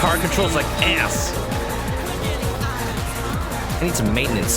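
Video game car engine in Danganronpa V3: Killing Harmony, a steady rising-and-falling motor drone with repeated gear-shift sweeps and occasional tire squeal, loud and continuous throughout, with game music or effects layered on top.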